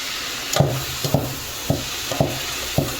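A spatula scrapes and stirs food in a kadai in a home kitchen, with about six short, rhythmic strokes roughly half a second apart over a soft background sizzle.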